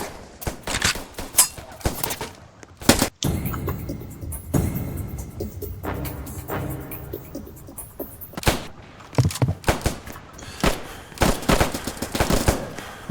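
Dense gunfire from the Roblox game Trenches, with rapid machine-gun bursts and overlapping shots rattling on throughout, loud and close, with brief gaps between volleys.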